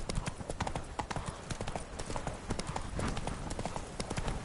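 Horse hooves clip-clop steadily in The Witcher 3, a brisk repeating rhythm of hoofbeats carrying on through the clip with a bit of ambient game sound underneath.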